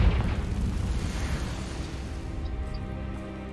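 A Confringo fire spell explosion in the Hogwarts Legacy video game: a loud, broad blast that booms at the start, then rumbles and crackles steadily for a few seconds, with no talk.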